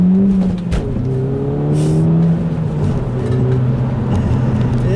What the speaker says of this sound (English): One more acceleration here.